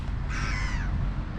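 A single harsh crow caw rings out clearly in the middle over a quiet outdoor background, close and fairly loud.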